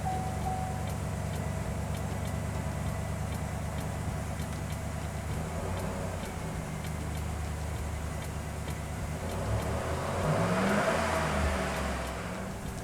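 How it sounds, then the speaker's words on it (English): A 2008 Chevy Tahoe V8 idles steadily after an oil pan gasket and filter job, a continuous low engine hum with a faint tonal whine, rising slightly toward the end, no voices. "We're gonna leave the truck running for a while, let it get hot"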